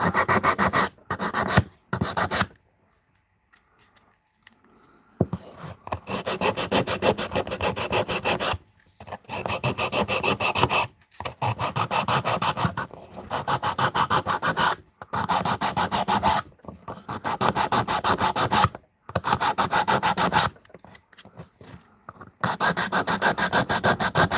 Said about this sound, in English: Let's sand this off.